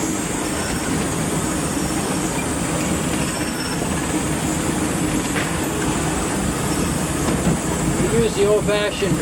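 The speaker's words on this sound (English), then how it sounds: "Use the old-fashioned direct air brakes on these trains." A Disneyland Railroad steam train, engine #1 C.K. Holliday, rumbles steadily from the cab with old-fashioned direct air brakes, its wheels squealing in high rising tones near the end.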